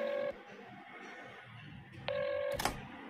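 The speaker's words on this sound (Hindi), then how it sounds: "ऐसे फोन करता हूँ एक सेकेंड।" Telephone dialing tones play in two bursts, a steady electronic beep cutting off abruptly, then returning after a pause, clear and fairly quiet against a faint background.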